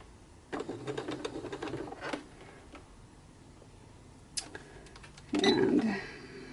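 Short bursts of a sewing machine stitching fabric flowers, running in brief spurts with pauses between, stitching and stopping to lift, ending in a louder run near the close.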